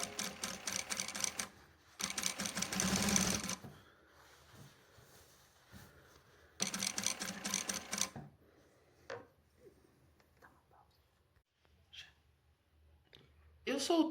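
An industrial sewing machine stitches a fabric skirt in rapid buzzing runs that stop and start, with someone talking in the quiet gaps between bursts of stitching.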